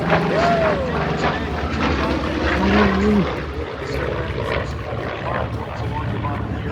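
A Douglas A-1 propeller attack aircraft dives during an air show demonstration, its engine roaring steadily and loudly throughout, with a brief swell midway, while a voice talks over it.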